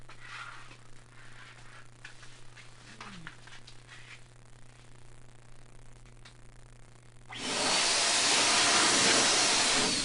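A paint sprayer spraying finish onto French Provincial furniture starts after several quiet seconds of faint handling noise and then hisses loudly and steadily up close.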